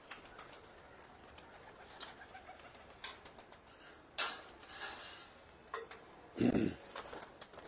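Game pigeons of the Jugnu and Red Bull breeds cluster nearby, giving soft scattered coos and a few louder bursts amid light rustling and wing movement.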